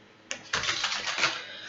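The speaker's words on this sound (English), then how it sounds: "I am just shuffling, preparing to do your July 2018 love reading" Tarot cards shuffled by hand, a short riffle of dense papery clicks and flutters that follows a single sharp tap.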